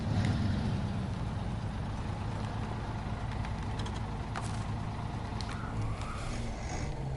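A truck rumbles along in the off-road driving game SnowRunner, a steady low engine drone holding at an even level throughout with faint mechanical clicks on top.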